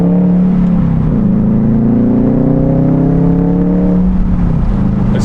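A JDM car's engine rumbles loudly and close at a cars and coffee meet, a deep, steady drone that revs up and dips twice with audible pitch shifts.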